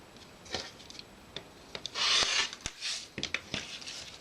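Sewn quilting fabric being cut in half with scissors, a series of soft, close snips and rasping strokes at an irregular rhythm, quiet and alone.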